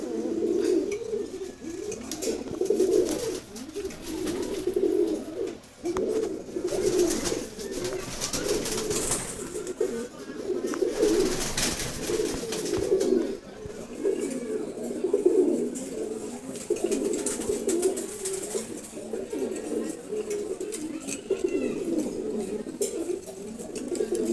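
Many giribaz pigeons coo continuously in a low, throaty chorus, close and overlapping, with some fluttering and shuffling in the background.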